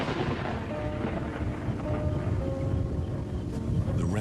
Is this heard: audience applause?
no